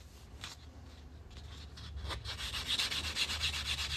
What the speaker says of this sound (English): You still got a little bit of a nick right there that I need to sand down.